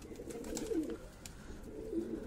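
A pigeon perched on a rooftop gives two soft, low coos about a second apart, faint against quiet outdoor background noise.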